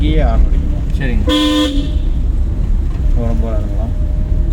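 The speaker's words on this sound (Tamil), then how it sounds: "அவருக்கு இங்கேயே ஹார்ன் அடிக்கணும்." A car horn gives one loud, steady honk lasting about half a second during a driving lesson, with an instructor and learner talking before and after it.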